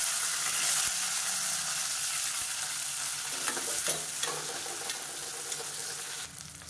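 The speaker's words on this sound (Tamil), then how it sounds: "வெங்காயம் நல்லா வதங்கிட்டு இருக்கு" Small shallots cut in half sautéing in oil for Madurai-style mutton sukka, a steady close sizzle with scraping stirs of a spatula, the frying easing slightly toward the end; no talking.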